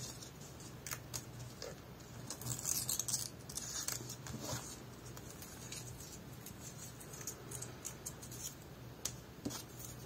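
Paper torn by hand, a quiet close-up run of short ripping and rustling bursts with small pauses between tears.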